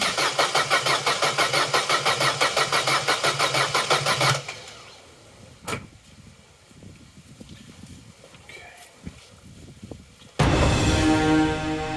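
A Vauxhall Corsa B engine cranks over in a fast, even, loud churning rhythm for about four seconds, then stops; quiet knocks and shuffling follow before a second loud burst of cranking near the end.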